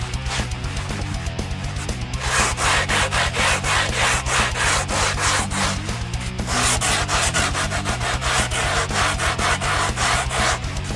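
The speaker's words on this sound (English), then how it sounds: "Wrap up your 60 grit in your sanding block and you're ready to go." Rhythmic back-and-forth scraping of 60-grit sandpaper on a sanding block against wood while shaping a skimboard, close and loud, with steady strokes continuing throughout and a brief pause near the start.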